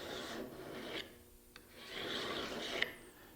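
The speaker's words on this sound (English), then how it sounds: "the first step I want to do with my file is to run it flat against the side and push it along in a nice even stroke" A metal file is pushed flat along the side of a cabinet card scraper in even strokes, giving close, soft rasping passes separated by short pauses, with faint clicks between strokes.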